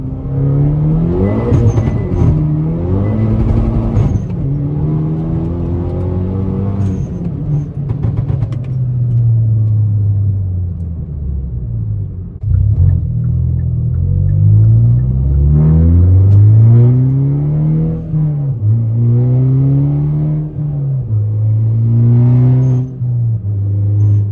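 A Hyundai Veloster N fitted with a Uniclutch Sport clutch pulls hard, its engine note climbing through the revs, dipping at a gear change, then surging upward again under sustained acceleration, loud and close throughout, with no talking.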